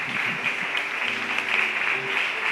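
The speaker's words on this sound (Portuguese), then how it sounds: "Dá um aplauso ao Senhor" A church congregation gives brief applause after a prayer at a worship service, a hazy wash of clapping with some faint voices mixed beneath it.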